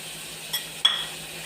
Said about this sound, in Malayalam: ചിങ്ങ വേകാൻ വേണ്ടി നമ്മളതൊന്ന് ഇളക്കി കൊടുക്കാം